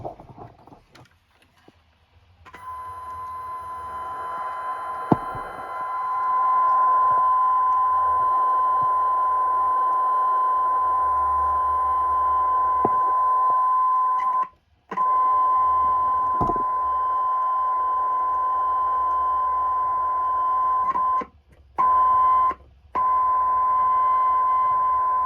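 Serato control record tone played on a turntable, a steady pure whine held for most of the span, broken by a few brief dropouts, with faint low rumble and clicks beneath.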